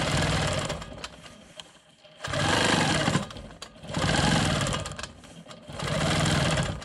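A Quilt Maker Pro 20 quilting machine stitching in steady bursts, its fast mechanical needle chatter rising loud and close, pausing briefly around two seconds, then running again in long stretches with short dips between passes.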